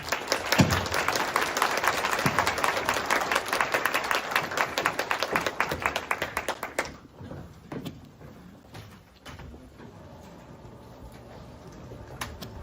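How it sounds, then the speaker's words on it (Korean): A university lecture audience at Kyungpook National University gives loud, dense applause to welcome speaker Han Dong-hoon, clapping for about seven seconds before dropping off abruptly into quieter room noise with a few scattered sounds. "큰 박수로 맞이해 주시기 바랍니다"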